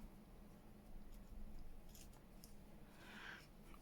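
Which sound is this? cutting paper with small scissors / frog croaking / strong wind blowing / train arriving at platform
cutting paper with small scissors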